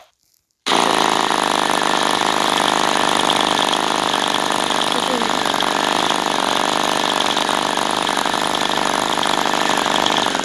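Motorbike engine in the Roblox game starts after a brief silence, then runs steadily and loudly at an even pitch, alone, for the rest of the stretch.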